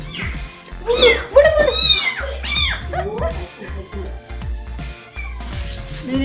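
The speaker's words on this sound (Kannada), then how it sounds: "ಚೆನ್ನಾಗಿದೆ ಬೆಕ್ಕಿನ ಮರಿ." A kitten meows repeatedly in high, wavering cries, close by, while people talk in the background.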